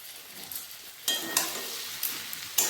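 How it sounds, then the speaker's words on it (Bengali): A spoon stirs chopped tomato and cumin powder in a pan of fish oil, with a soft steady sizzle and a few sharper scraping strokes, fairly quiet and with no talking. "জিরে গুঁড়ো ভালো করে মিশিয়ে নিলাম টমেটো"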